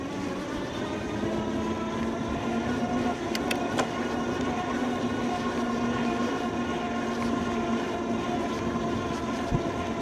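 A moped-style e-bike climbing a hill on pedal assist level 5 with throttle, giving a steady motor whine and road rumble with a few brief clicks, constant and moderately loud, with no talk.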